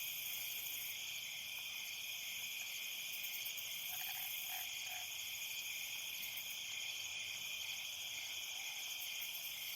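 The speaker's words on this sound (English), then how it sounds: "really the only thing kind of going on is those nighttime crickets. Nice sound of a forested night." Nighttime crickets in a forest keep up a steady high, shimmering chorus, continuous and even, with a faint brief call in the middle and no talking.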